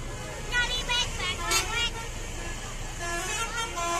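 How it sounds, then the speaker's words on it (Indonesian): Busy road traffic with cars, buses and trucks passing steadily, punctuated by several short horn toots near and far, while a person talks over the roar. "Dan ramai juga banyak kendaraan melintas ya."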